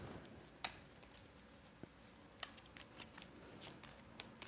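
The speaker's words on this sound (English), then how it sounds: "Got these cards shuffled." Playing cards being shuffled close by, quiet and soft, with scattered crisp flicks, riffles and light taps spread irregularly over a few seconds. No voices are present.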